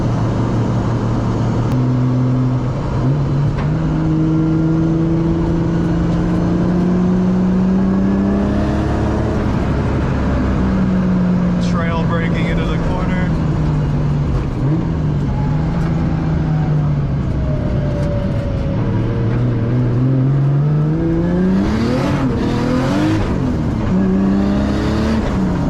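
A 500-horsepower Nissan 240SX time attack grip car revs hard and loud, its engine pitch climbing and falling through sustained sweeps with a sharper burst near the end, no voices over it.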